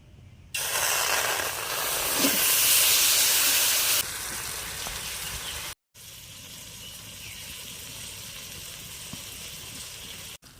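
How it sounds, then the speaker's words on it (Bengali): Butter heats in a hot kadai as it turns into ghee, producing a loud, even frying hiss that drops in level after a few seconds, cuts out briefly, then resumes steadily. "মাখনটা জাল দেওয়ার সঙ্গে সঙ্গে আস্তে আস্তে ঘিতে পরিণত হচ্ছে"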